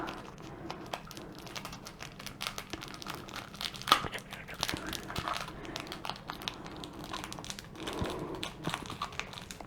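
Plastic packaging from a scrap haul being torn open, with irregular crinkling and rustling, a few sharper crackles, fairly close but quiet.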